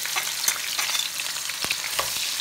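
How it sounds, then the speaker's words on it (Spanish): Onion frying in hot oil for Mexican beef tinga, a loud, close, continuous sizzle and crackle with occasional sharper pops and stirring scrapes. "para poner a freír la cebolla"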